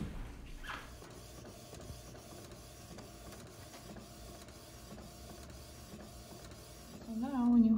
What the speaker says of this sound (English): All right, and then I'm just going to print.